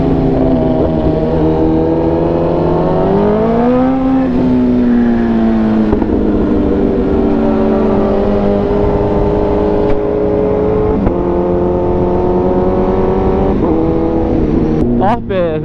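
Suzuki GSX-R1000 and Yamaha R6 sport motorcycles ride at high speed, reaching about 299 km/h, with a loud continuous engine drone whose pitch climbs and shifts through gear changes over steady wind roar.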